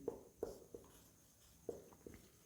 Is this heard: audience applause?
no